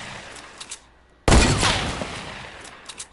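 A single sharp hunting rifle shot in Fortnite Battle Royale cracks loud and close after a quiet lead-in, then decays into a long rumbling echo.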